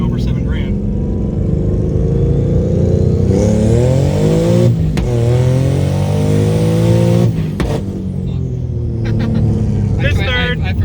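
A turbocharged 3.7L V6 S550 Mustang running a single 6766 dual ball bearing turbo rips hard through the gears, its loud engine tone climbing repeatedly and breaking off briefly at each shift.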